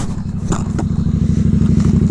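A motorcycle sliding down the road in a low-side crash: a steady, close engine drone with a rapid pulsing rhythm, broken by brief scraping, clattering bursts as the bike skids.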